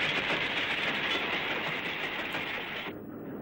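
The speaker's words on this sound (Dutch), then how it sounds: "Bello, de stoomtram van Alkmaar naar Bergen aan Zee, maakte zijn laatste rit" A steam tram running through dunes and woods between Alkmaar and Bergen aan Zee gives a steady, loud rolling rumble with faint rhythmic clatter, easing off near the end.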